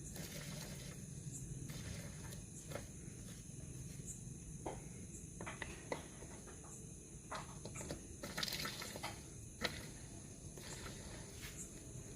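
Ratchet tightening engine bolts on a Bajaj Pulsar NS160 during engine fitting in a workshop, faint scattered clicks and mechanical ticks over a quiet background hum.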